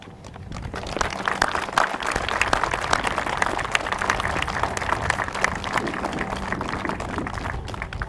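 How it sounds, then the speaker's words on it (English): Sustained applause from an audience at a Veterans Day ceremony, a steady dense wash of clapping that fills the whole stretch at moderate loudness. "I'd just like to give you a round of applause now"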